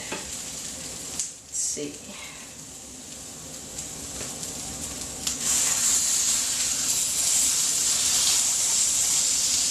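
Salmon searing in a pan, a steady frying sizzle with a few clanks as it is handled, growing to a louder, brighter hiss partway through; a voice speaks briefly.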